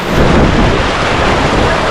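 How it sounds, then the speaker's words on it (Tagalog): Heavy rain pours in a dense, loud, steady roar of hiss and rumble with no breaks and no talking. "Kung malakas yung ulan, no?"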